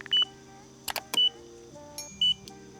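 A Circooter Landturbo electric scooter gives three short, sharp electronic beeps spaced across a couple of seconds, with clicks and a low steady hum in between.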